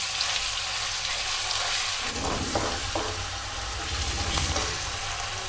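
Ground asafoetida and bay leaf roasting in a hot pan, a steady close sizzle and fry hiss with a few soft stirring scrapes partway through, no voices.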